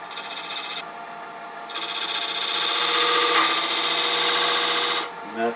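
A wood lathe spins a walnut box blank as a cutting tool bites in, giving a sustained, fairly loud scraping whir that swells and ends abruptly as the tool pulls away.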